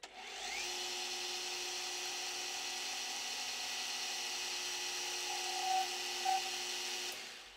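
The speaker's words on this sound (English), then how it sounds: "We're going to chamfer that shoulder there." A lathe chamfers a shoulder on a metal chuck key, producing a steady tonal whine with a cutting hiss over several seconds, swelling in two brief squeals near the end before stopping; no speech.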